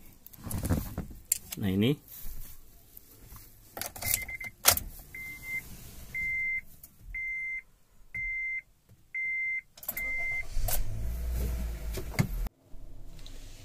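A Honda Brio RS being started: a repeating series of electronic chimes sounds with the ignition, then the engine cranks and settles into a low idle, with brief talk at the start.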